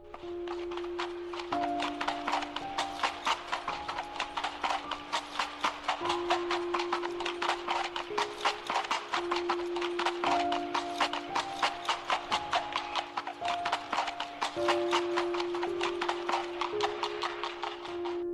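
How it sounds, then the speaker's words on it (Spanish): Horse hooves clip-clopping steadily at a walking pace, loud and close throughout, with a held musical tone running underneath. "escuchó cómo se acercaba el sonido de los"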